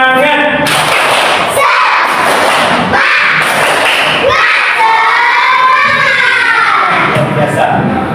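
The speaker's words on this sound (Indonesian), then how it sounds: "Tepuk semangat." A classroom of schoolchildren performs a rhythmic clapping chant, sharp group claps landing in bursts between loud shouted syllables, energetic and close, with several distinct clap-and-shout phrases.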